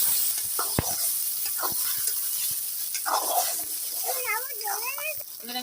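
Cumin and spices fry in hot oil in a wok for sago khichuri, making a continuous soft sizzle with occasional utensil clicks. Near the end a voice talks over the hiss.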